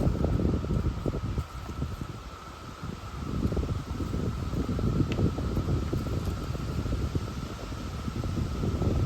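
Wind blowing across an open disc golf course, a steady broadband rush with gusty low rumble swelling and easing throughout, close to the microphone and without talk.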